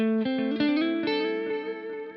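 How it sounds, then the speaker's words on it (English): Electric guitar played through a Boss DD8 delay pedal, a short run of sustained notes ringing with repeating echoes that trail into a smooth decay. "the delays on this DD8 are pristine"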